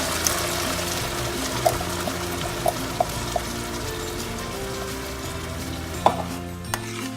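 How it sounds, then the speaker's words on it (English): Canned red beans and their liquid pour into a pot for a Caribbean stew, a steady wet rush and splash with a few light clinks from the can or spoon, close and continuous with no talking. "Now I'm adding my red beans, and I'm going to use all the liquid that's in the"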